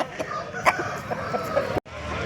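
A rooster at the Sunday hen market in Pileru clucks and calls amid a busy market din, with voices talking in the background and a brief dropout near the end.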